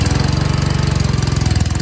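A petrol engine on a hydraulic power pack runs with the choke on, cold after stalling. The engine note is loud, near and steady, with rapid even firing pulses throughout and no talk.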